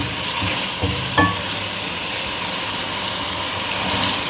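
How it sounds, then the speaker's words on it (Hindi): Vegetables hit a hot pan for chicken macaroni and sizzle with a steady frying hiss, with a couple of soft clinks of stirring near the start. "अब सब्जियाँ डालते हैं।"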